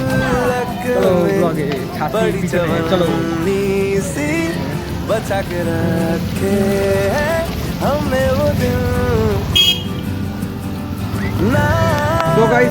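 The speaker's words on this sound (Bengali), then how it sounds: "পুরো বৃষ্টি হচ্ছে ধীরে বৃষ্টি হচ্ছে" Rain falls at Bagula railway station, a continuous soft wash of drops on surfaces heard beneath people talking nearby throughout.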